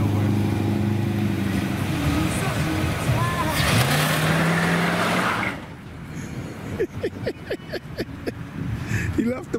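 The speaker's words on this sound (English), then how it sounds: "It take a lot to spin those big tires." A 1977 Buick Regal with big tires roars at high revs for several seconds in a loud, sustained engine and tire-spin burst, then cuts off; people talk afterward over faint road noise.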